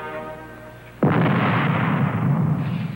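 A single loud gunfire blast in a 1965 Quaker Puffed Rice and Puffed Wheat commercial bursts in after a second of quieter tone, then rumbles and decays for about two seconds.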